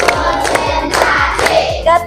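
A group claps out the 'tepuk 4' counted hand-clapping pattern in a short, rhythmic run of sharp, close claps, with faint voices chanting along.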